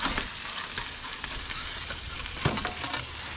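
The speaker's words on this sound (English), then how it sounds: "So that's a lot of oil cooking." Hot oil sizzles and crackles around a Detroit-style pizza baking in an Ooni Koda 16 oven, a quiet continuous fry with scattered sharp pops and one louder crackle burst.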